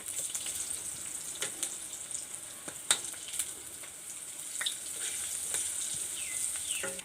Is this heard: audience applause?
no